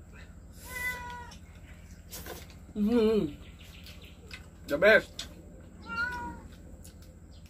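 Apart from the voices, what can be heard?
cat meowing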